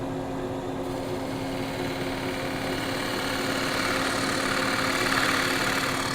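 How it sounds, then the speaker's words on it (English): A wood lathe spins a cherry bowl blank while a spindle gouge cuts its tenon. A steady, droning motor hum fills the space at even volume, with no distinct cutting bursts standing out. "Now I'm going to go ahead and cut my tenon. I like to finish my tenons with a spindle gouge."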